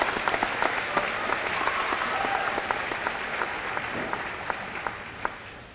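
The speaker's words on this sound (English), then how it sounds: "that's worth a round of applause" Commencement crowd at Centenary College of Louisiana applauding graduates, a steady dense clapping with a few louder individual claps standing out, slowly tapering toward the end.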